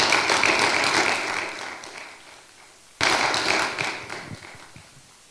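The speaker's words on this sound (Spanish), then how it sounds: "Un aplauso cerrado a nuestro Señor Jesucristo" Congregation applauding during a church sermon, two bursts of clapping that each fade away, the first lasting about two seconds and the second starting around the three-second mark, moderately loud with no speech.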